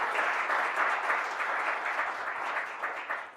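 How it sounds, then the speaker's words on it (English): Steady applause from an audience at the end of a startup talk, a dense wash of many hands clapping at even loudness throughout. "everybody give a round of applause for a great talk today."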